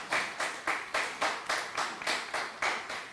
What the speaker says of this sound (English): everyone, a big round of applause to commemorate the exchanges between the two cities.